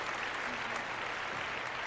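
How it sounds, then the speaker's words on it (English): Applause plays during a call-in radio show, a short, steady wash of crowd clapping heard faintly, as if through a broadcast feed. "Do you hear the applause?"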